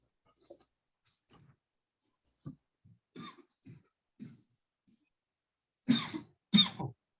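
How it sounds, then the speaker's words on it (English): A person coughs twice loudly and close up near the end, after quieter scattered throat sounds and faint murmurs in an online class setting. "Is that you coughing?"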